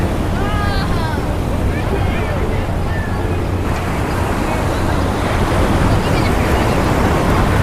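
Ocean surf rolls steadily onto a beach on Kauai, Hawaii, a continuous loud wash of waves mixed with wind buffeting the microphone, with faint voices briefly in the background early on.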